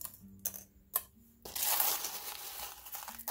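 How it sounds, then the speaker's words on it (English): Small pieces of purple glass being layered onto kiln paper for fused glass cabochons make light clicks and clinks, then a crinkly, crunching rustle of handling, quiet and close with a faint tone humming underneath. "I'm just layering this glass in here."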